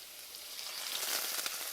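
Four freshly crushed garlic cloves sizzle in a hot pan: a steady, close, continuous frying hiss that swells slightly partway through, with no voices.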